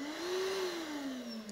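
A vacuum cleaner motor salvaged from a waste dump runs after a short recharge, giving a steady electric whine that rises slightly in pitch and then eases down, heard alone at moderate volume.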